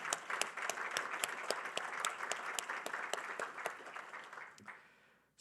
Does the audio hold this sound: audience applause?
yes